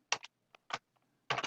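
Keystrokes on a computer keyboard while entering a time into a spreadsheet, a handful of separate taps in small bursts with short pauses, close and fairly quiet, no talking.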